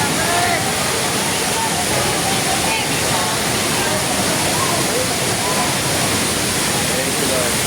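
Ditumabo Mother Falls in San Luis, Aurora, roars as a close, loud, unbroken wash of falling water that fills the whole scene without a break.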